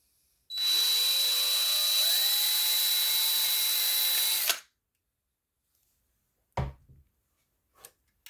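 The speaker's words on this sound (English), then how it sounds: "Get our other hole drilled here." A power drill bores a hole in a GI Joe mission control panel, a single loud, steady whine lasting about four seconds that stops abruptly, followed by a couple of faint handling clicks and knocks.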